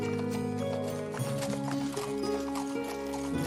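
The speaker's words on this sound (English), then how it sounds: "I knew I had horseback sound effect on somewhere" Horse hooves clip-clop steadily over a continuous bed of music for horseback riding, with a neigh or whinny and a brief rhythmic run of hoofbeats, loud and close without any talk.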